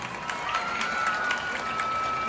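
Audience applause at a live show, a dense, continuous patter of many hands clapping with faint crowd noise and a thin tone running through it.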